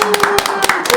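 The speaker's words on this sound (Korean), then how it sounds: "박수로 맞이하겠습니다" Hand clapping in a church welcoming missionaries, sharp claps at an irregular rhythm, close and fairly loud, with a steady held tone running underneath.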